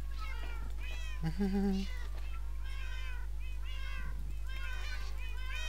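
Several cats meowing in Minecraft, a string of overlapping mews over a constant low hum, with a person speaking and laughing briefly partway through.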